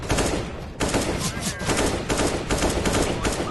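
Rapid gunshots from Counter-Strike: Global Offensive crack in quick succession, loud and close, a burst of sharp reports filling the short stretch, no voices over them.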